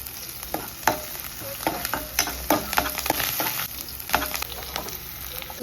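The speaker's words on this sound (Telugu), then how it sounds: "తాలింపు దినుసులు వేస్తాను." Curry leaves, green chillies and tempering spices crackle and sizzle in hot oil as they are stirred, with sharp spitting pops scattered over a steady frying hiss, close and fairly loud, with no talking.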